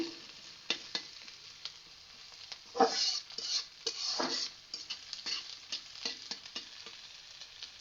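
Onions frying with beef in a pan, a steady soft sizzle with scattered crackles and a few louder spatters and stirring scrapes, close by with no voices.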